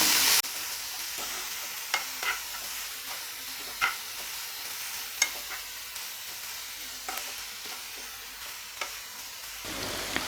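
Small pieces of ooli fish fry softly in a pan while a spoon stirs them now and then, giving a low continuous sizzle broken by occasional scraping knocks, with no talking.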